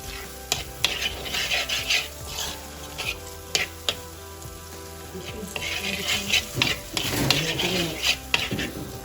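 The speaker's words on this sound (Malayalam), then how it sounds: "ഇനി പഴുത്ത തക്കാളി നന്നായിട്ട് വെന്തുടങ്ങി വരണം" Ripe tomatoes fry in a spiced masala for a home-style Kerala lunch, a steady sizzle punctuated by rhythmic clinks and scrapes of a spoon against the pan, close and clear.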